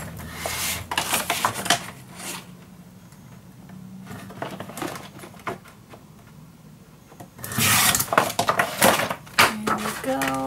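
Rough scraping and rasping cuts as the sides are cut off paper, coming in bursts, with quieter handling noises between them, close by.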